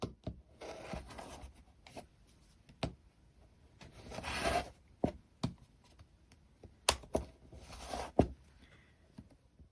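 A rotary cutter slices a fabric strip against a ruler: soft rubbing, rasping passes in several separate bursts with sharp clicks and knocks between them, close and fairly quiet, with no speech.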